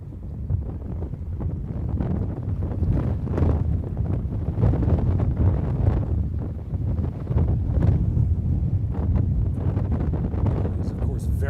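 Strong, steady wind buffets the microphone outdoors during the San Francisco Fleet Week parade of ships, a constant low roar with gusty rumbling and no pauses.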